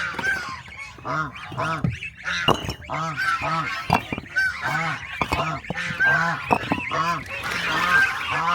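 Domestic goose goslings honk repeatedly in a steady, overlapping run of calls, close and fairly loud, while a person makes brief vocal sounds among them.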